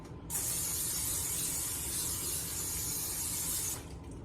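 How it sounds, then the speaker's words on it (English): A close, continuous aerosol non-stick cooking spray hisses onto a baking dish for about three and a half seconds, steady and bright, then cuts off. "I'm gonna spray my baking dish with some non-stick spray."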